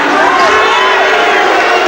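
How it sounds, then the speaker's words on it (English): A boxing crowd at a fight between Gary Stretch and Ramon Alegre reacts with a loud, sustained collective roar of displeasure, dense voices filling the arena throughout. "the crowd not happy with that"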